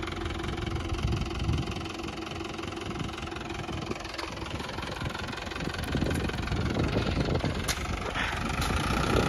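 A Mahindra tractor, stuck and struggling to pull free, runs with a loud, continuous diesel chug and rattle up close, growing slightly heavier toward the end as it strains.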